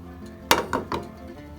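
Spiced ingredients for an Indian lentil curry drop into a plastic Tupperware container with one sharp clack and two softer knocks close by, then quiet.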